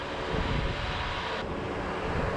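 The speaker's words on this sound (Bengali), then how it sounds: "এখন সাংঘাতিক জোরে এখানে হাওয়া বলছে" Strong wind roars steadily across a balcony at Bakkhali at dawn, a dense unbroken rush of air buffeting the microphone with no pauses.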